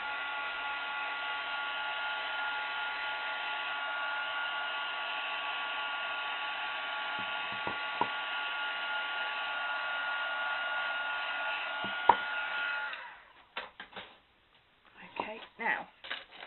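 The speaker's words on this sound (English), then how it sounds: "give that a little blast with my heat tool to give it a little bit of" A heat tool blows hot air to dry ink on a craft photo cube, giving a steady, loud whooshing drone with a couple of clicks for about thirteen seconds before shutting off, followed by faint handling sounds.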